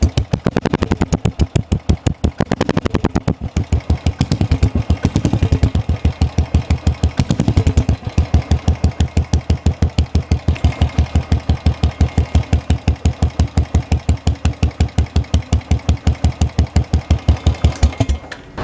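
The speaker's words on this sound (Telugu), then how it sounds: "ఈ సౌండ్ కూడా చూపిస్తాను నీకు వితౌట్ సైలెన్సర్ ఎలా ఉంటుందో" A Royal Enfield Classic 350 running with no silencer fitted pounds out loud, rapid, evenly spaced exhaust beats close by, a harsh continuous thumping that holds steady for the whole stretch with no talk over it.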